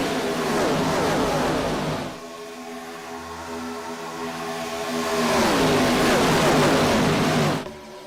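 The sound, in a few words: IROC race cars racing at Talladega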